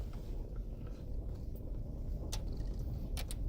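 A truck engine-braking in first gear down the steep gravel switchbacks of the Moki Dugway, a steady low rumble and drone filling the cab from close by, with a few faint clicks and rattles over it and no talk.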